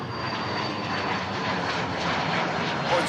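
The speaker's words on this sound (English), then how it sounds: "Heading off to Edinburgh, this silver aviation PC-24 yes." Pilatus PC-24 business jet engines roar steadily at Manchester Airport as it departs for Edinburgh, a loud continuous broadband whine with a faint high tone, no talk over it.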